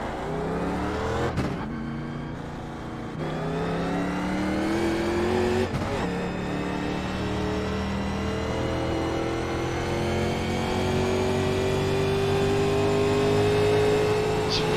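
A 1987 Legends NASCAR stock car engine in the iRacing game on a qualifying lap at Atlanta: a steady, loud engine drone with rising pitch sweeps through each gear, a couple of sharp shift breaks, then a long sustained pull.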